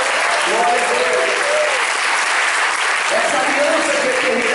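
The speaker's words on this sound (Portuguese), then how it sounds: "Você pode aplaudir?" A church congregation applauds during a sermon, continuous loud clapping with voices calling out over it at the start and again near the end.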